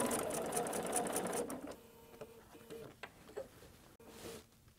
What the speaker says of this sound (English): Line up the fabric and sew.